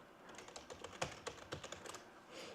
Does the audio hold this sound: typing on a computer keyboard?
yes